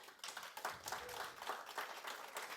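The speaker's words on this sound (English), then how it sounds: "Can I just get you to stand up one last time and give you all a round of applause?" Applause from a conference audience, standing for a final round of thanks; scattered, fairly quiet clapping with uneven bursts, nearby and without any talk over it.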